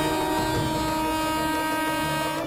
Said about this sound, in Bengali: ট্রেন আসছে ভাই।